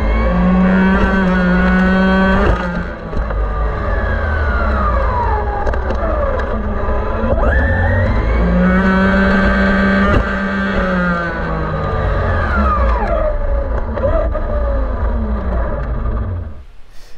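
A small RC car running on a 7.2-volt, 3000 mAh nickel metal hydride battery gives a loud, close electric motor whine that rises and falls repeatedly as it speeds up and slows down, with no talk, for about seventeen seconds.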